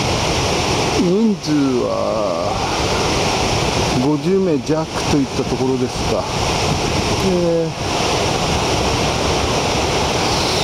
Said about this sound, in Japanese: 上級者中級者なら十分遊べる波が入っています